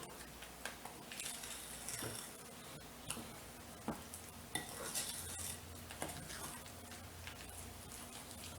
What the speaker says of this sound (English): Get that all stirred up in there.